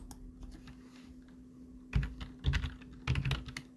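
Brief typing on a computer keyboard while entering text in Adobe Illustrator: a few soft clicks, then three quick clustered bursts of close keystrokes over a low steady hum, with no talking.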